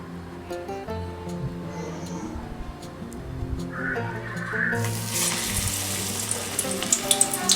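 Multi-grain vadai drop into hot oil and break into a loud, crackling sizzle partway through, following a stretch of background music that keeps playing beneath the frying.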